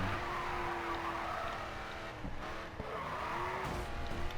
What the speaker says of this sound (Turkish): Al sana drift.